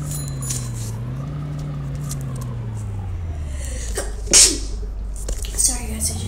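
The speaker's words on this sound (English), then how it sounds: "I just sneezed" A single sharp sneeze, heard near and loud partway through, rising briefly over a steady low hum from a game, with a few small clicks after it.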